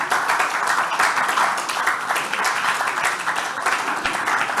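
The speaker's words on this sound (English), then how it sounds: "Please clap for them as they come." A conference audience claps in a dense, continuous stretch of applause, close and sustained with no voices over it.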